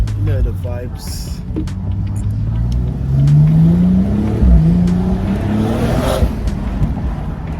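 A BMW M135i hatchback engine with a BMS performance intake revs and pulls hard, its low growl rising and falling in pitch as it accelerates, with a voice speaking briefly over it.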